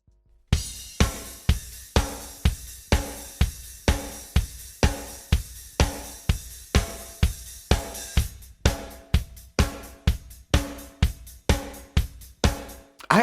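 A full mixed drum kit plays a steady groove, a crisp, snappy snare cracking on the backbeat over punchy kicks and cymbals, loud and continuous with no voices.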